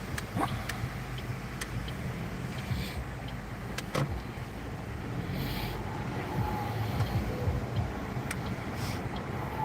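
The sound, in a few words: cars driving past on the road in Auckland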